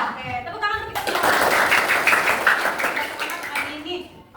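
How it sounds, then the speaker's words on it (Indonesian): Children in a classroom break into a burst of energetic clapping after a teacher speaks, the applause loud and sustained for a few seconds before voices return. "Oke, tepuk tangan untuk kita semua."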